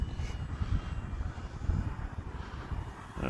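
An E-flite Commander MPD radio-controlled plane cruising at about half throttle, its motor droning steadily at a moderate distance with wind buffeting the microphone.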